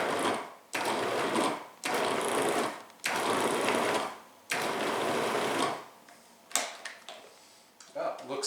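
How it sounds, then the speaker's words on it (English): A food processor pulses butter into flour in five or six loud whirring bursts, each about a second long with short pauses between. "I'm going to pulse the machine a few times just to break up the butter."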